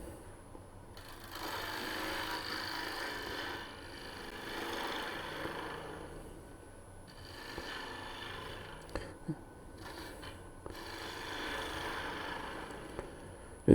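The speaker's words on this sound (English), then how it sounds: "Again with the bowl gouge." A bowl gouge cuts a wooden wig stand on a lathe, giving a steady rasping, scraping sound in long passes with short pauses and a few sharp ticks, close and moderately loud, with no talking.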